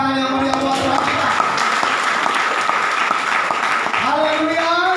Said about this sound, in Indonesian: Kita berikan tepuk tangan yang meriah buat Tuhan kita.